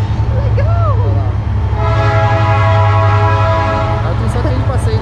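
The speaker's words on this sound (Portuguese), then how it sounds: "tá passando um trem de passeio aqui" A tourist train passes close by in Curitiba's Botanical Garden, its horn sounding a loud sustained toot over heavy rumbling rail noise, with people talking nearby.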